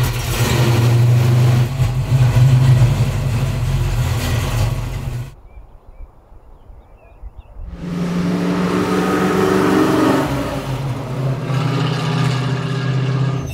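A 1965 Ford Mustang with a newly upgraded clutch drives loudly with a deep, heavy engine rumble. The engine drops to near silence for a couple of seconds, then comes back as it pulls away and revs again.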